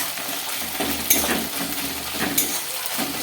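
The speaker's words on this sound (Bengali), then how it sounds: "এবারে ভালো করে আমি একটু কষাবো এটাকে।" Ginger paste sautéing in a pan for egg chilli gives a steady, close sizzle, broken by a couple of sharper spatula scrapes as it is stirred.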